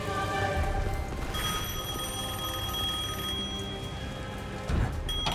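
A telephone in the Devil May Cry 5 video game rings with a sustained, bright electronic tone that starts after a moment and continues steadily at moderate loudness over a low background rumble.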